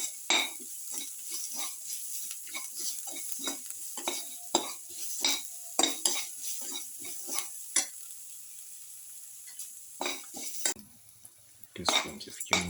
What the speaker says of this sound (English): Keep on salting. Thoroughly saute this.